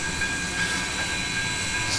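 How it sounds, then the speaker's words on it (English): Pennsylvania Railroad style locomotive bell on a K&L PRR I1sa 2-10-0 steam locomotive in Trainz 2019, ringing steadily and fairly loud over a constant low engine rumble, with no voices. "Pretty nice bell sound."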